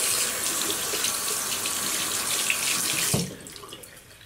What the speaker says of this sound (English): Let me put some warm water on there.